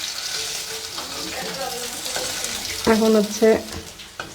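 Teasel gourd frying in a pan gives a steady sizzling hiss throughout, with a voice talking briefly over it partway through.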